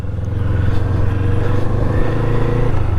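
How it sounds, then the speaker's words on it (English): A Kawasaki Eliminator 450cc 180-degree parallel twin with its stock exhaust idles and revs steadily up close, a dense, loud low drone throughout with a slight rise and fall. "Sound on it though, exhaust note, it's not the best."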